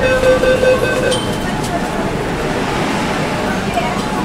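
A Kolkata Metro train at Esplanade underground station fills the space with a steady, broad rumble. A thin whine rides over it at the start, then the roar levels off as the train runs on.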